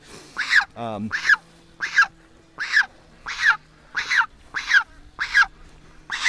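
A goose honks nine times in a steady rhythm, loud and close, outdoors among ducks. Each honk comes out as a short nasal blast. A brief low ratcheting call cuts in after the first honk.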